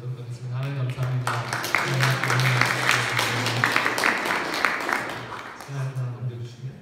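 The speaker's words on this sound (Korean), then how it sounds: "이 시간을 좋으신 하나님께 먼저 영광의 박수 한번 돌리고 예배 시작하도록 하겠습니다." A church congregation at a Korean Sunday service in Munich claps together, a broad burst of applause that swells in the middle and settles. A voice speaks and a low tone sounds at the start and end.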